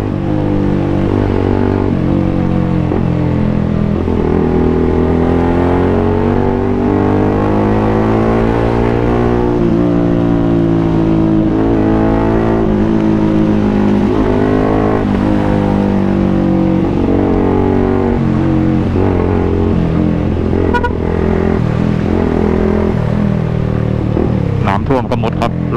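A Yamaha M-Slaz motorcycle is ridden through a flooded area of Bangkok, its engine droning steadily with small rises and falls in pitch. Road and wind noise sit underneath, and the sound stays loud and close the whole way.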